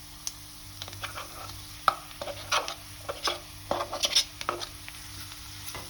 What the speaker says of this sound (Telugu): అన్నీ ఒక్కసారి కలిపేటట్టు ఫ్రై చేసి పక్కన పెట్టుకోండి